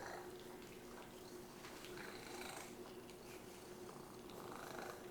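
A house cat purrs steadily up close, a continuous low rumbling drone with no talking over it.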